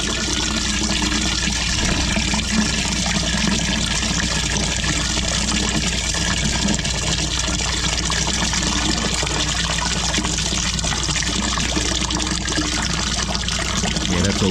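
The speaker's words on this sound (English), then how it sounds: "Now we should see just a constant run of water because we're going to run the tap for about" Tap water runs steadily into a blocked drain, a constant, loud, close rushing trickle that holds without a break the whole time, with no voices over it.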